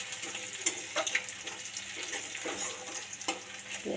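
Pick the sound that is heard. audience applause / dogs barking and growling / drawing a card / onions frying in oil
onions frying in oil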